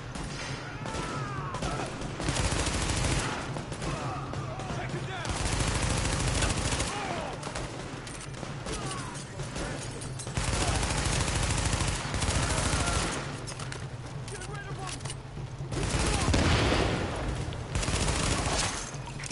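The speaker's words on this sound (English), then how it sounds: "escort party's taking heavy fire from the roof" Sustained bursts of automatic gunfire and scattered shots in The Division, a rooftop firefight during an escort mission, loud and continuous across the whole stretch with heavier volleys in waves and faint voices mixed underneath.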